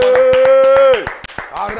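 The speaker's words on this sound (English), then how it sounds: "Clap your hands and shout, get out." Church congregation clapping in a steady, sharp rhythm, each clap distinct and close, under a sustained sung or shouted tone that breaks off partway through.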